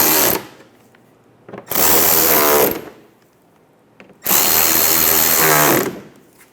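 A power drill runs in two sustained bursts with pauses between, tightening the three 10mm bolts of a fog light on a 2014-2019 Toyota Highlander, close and loud.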